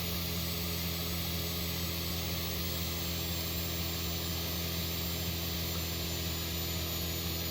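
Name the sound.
turbocharged Volkswagen car engine climbing a steep hill, The Long Drive video game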